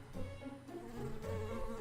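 Bee swarm from the game Secrets of Gindea, buzzing continuously in a fairly soft, wavering drone with a slight rise in the second half.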